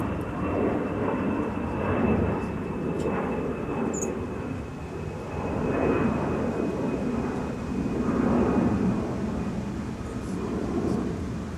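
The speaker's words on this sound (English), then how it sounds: "Delta 1212 off to Reagan Airport in Washington, D.C. with the next Northwest A320." A Delta Airbus A320 in Northwest livery departs MSP airport, a broad continuous roar of jet engines that rises and falls steadily, heard from a distance with no voices.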